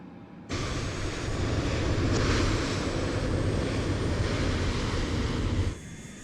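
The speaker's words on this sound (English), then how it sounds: "and we will start engine number 2" A loud, steady airliner engine roar from the Microsoft Flight Simulator 2020 game as engine number 2 starts on a Bangkok Airways flight, a broad rumbling drone holding near-constant before cutting off abruptly.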